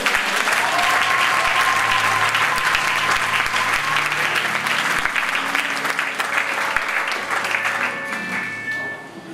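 A church congregation claps in sustained, dense applause to acclaim the Lord, loud and steady before tapering off slightly at the end.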